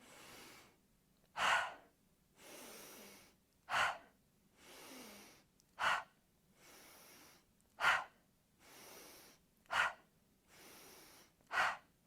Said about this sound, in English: it's going to start with breathing in through your nose and out through your mouth